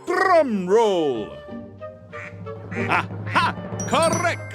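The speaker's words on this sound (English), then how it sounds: "Ducks, drum roll!" Several cartoonish duck quacks in a drum-roll rhythm from the Blue Toad Murder Files video game, loud and close, with rising and falling squawky calls over faint background music.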